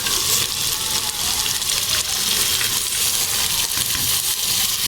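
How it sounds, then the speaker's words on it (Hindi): Cauliflower goes into a pot of frying mutton, bringing a loud, continuous hiss and sizzle with rough crackling textures, until it cuts off abruptly at the end. "अब हम इसके अंदर गोभी शामिल कर दें।"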